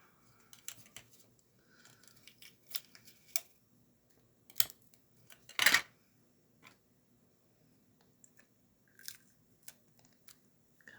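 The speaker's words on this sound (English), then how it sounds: "And then I'll just cut off the excess tape" Scissors snip off excess tape while potion bottle and spellbook embellishments are being crafted, giving one loud close cut among scattered light clicks and handling taps in a quiet room.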